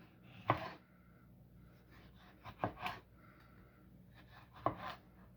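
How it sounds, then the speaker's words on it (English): A knife slices a Roma tomato on a cutting board, giving three or four crisp, separate cuts spread out in a quiet kitchen. Faint breathing can be heard between the cuts. "We're gonna slice right here."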